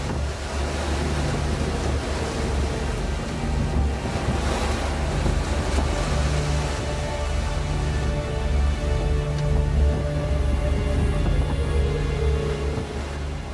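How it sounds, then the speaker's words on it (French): Ocean waves wash and slap against the hull of a solo round-the-world sailboat near the equator, making a constant rushing surge mixed with wind noise. The sound is steady and fairly loud, with no voices. "Les vagues contre la coque."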